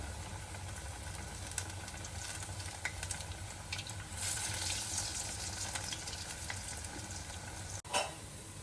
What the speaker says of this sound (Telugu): ఇప్పుడు వీటిని మీడియంలో పెట్టుకొని మనము బాగా డీప్ ఫ్రై చేసుకుందామండి రెండు వైపులా కూడా మంచి కాలేలాగా డీప్ ఫ్రై చేసుకుందాం